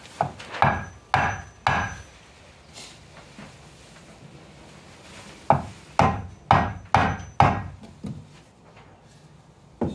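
Sharp, loud hammer blows on wood during a garden room floor build, a quick group of three, a pause, then a rapid run of five more strikes, close by.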